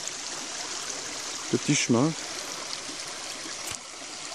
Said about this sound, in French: au bord de la rivière, là